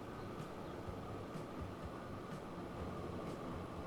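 A train runs steadily in the video game Transport Fever 2, a continuous rumbling rail roar with faint periodic clicks, close and loud with no talk.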